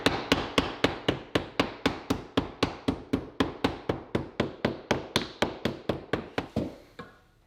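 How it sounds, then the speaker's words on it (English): A hammer strikes sheetrock beside a door jamb in a fast, even series of about two dozen sharp taps, each close and crisp with a short decay, stopping abruptly at the end. "pound the rock in a little bit"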